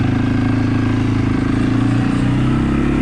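A CFMoto CForce 500s ATV engine running in high gear, a loud, continuous close-up engine drone with a steady low rumble and no talk over it.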